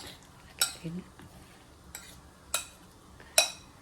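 Banana slices being tossed with a spoonful of oil in a bowl, producing a few separate clinks and scrapes of a utensil against the bowl with quiet gaps between them and no talking.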